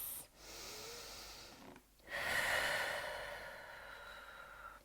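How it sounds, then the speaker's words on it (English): During a quiet yoga session, a person takes slow audible breaths close to the mic: a soft exhale, a pause, then a longer airy inhale that gradually tapers off. "taking a breath in stillness"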